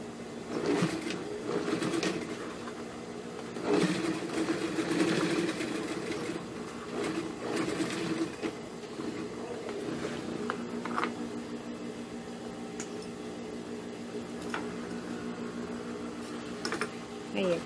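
A sewing machine stitches pockets onto a bag in rapid, buzzing bursts of varying length, close by, while someone talks intermittently.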